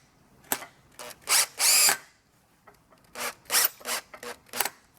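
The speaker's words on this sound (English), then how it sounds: "Switch out my drill." A power drill fastens a part back onto a Thule T2 Classic platform hitch bike rack, several short whirring bursts of varying length, close and fairly loud, with brief pauses between them and no talking.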